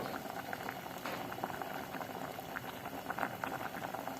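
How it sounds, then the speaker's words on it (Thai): A Thai cassia-leaf curry comes to the boil in a pot, producing a faint but steady bubbling and popping that continues on its own without speech. "นี่ก็เริ่มเดือด แล้วพี่น้อง"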